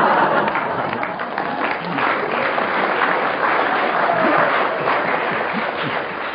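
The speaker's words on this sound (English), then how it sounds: "Why are you clapping?" Studio audience of a radio panel game clapping steadily, a dense wash of applause filling the whole stretch at even loudness with faint voices mixed in.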